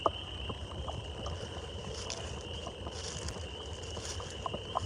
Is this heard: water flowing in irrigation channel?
no